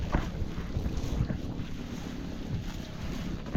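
Wind blows across open sea on a small fishing boat out for lobster, giving a continuous rough rumble of gusts and microphone buffeting with faint water sounds beneath, steady and moderately loud, with no speech.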